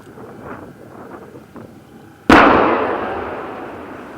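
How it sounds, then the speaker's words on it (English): An 81mm mortar round goes off inside an open-topped bund: a single abrupt, loud boom that decays slowly, preceded by faint wind noise outdoors. "We left the bund open to vent the blast out the top."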